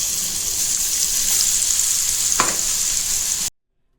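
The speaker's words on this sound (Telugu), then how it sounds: "ఆపిన తర్వాత కరివేపాకు, కొంచెం ఇంగువ, ఈ వెల్లుల్లి పేస్ట్ కూడా వేసుకోవాలి" Curry leaves, asafoetida and garlic paste fry in hot oil for mulakaada pachadi, a loud, steady, close hiss with one brief stir partway through, cutting off abruptly before the end; no talking.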